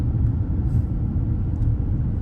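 A groom's car in a wedding procession passes along a road, giving a steady, loud low rumble of engine and tyre noise that stays constant throughout with no speech.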